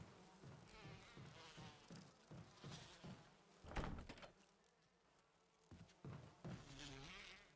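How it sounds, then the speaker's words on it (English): Swarming bees buzz in the Resident Evil Remake video game, a busy insect drone with dense layered hum rising and falling throughout, swelling sharply near the middle amid game sound effects. "I forgot how annoying the bees got"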